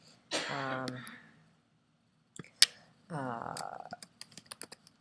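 Computer keyboard typing: a few scattered key clicks, then a quick run of sharp taps near the end, heard between stretches of a person speaking.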